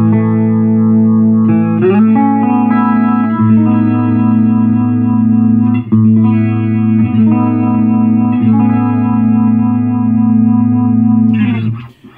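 Electric guitar played through a Fender Champion 100 solid-state 2x12 combo amp with the chorus effect engaged, sustained shimmering chords ringing continuously and loud for about twelve seconds with no talking.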